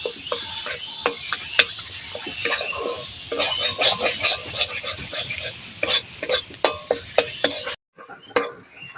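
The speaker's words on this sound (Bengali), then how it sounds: "সিম বাটা এই যে নাড়তে নাড়তে একদম শুকিয়ে গেছে" Ground flat-bean (sim) paste is stirred in a hot pan until dry, the spatula scraping and clacking against the metal in quick irregular strokes over a soft steady sizzle, close up with no talking.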